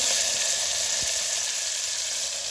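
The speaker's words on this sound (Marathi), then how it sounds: "आता यामध्ये मी हे जिरं टाकून घेतलेलं आहे कढीपत्ता थोडीशी कोथिंबीर" Cumin seeds and curry leaves with a little coriander sizzling in hot oil, a steady close hiss that fills the short clip without talk.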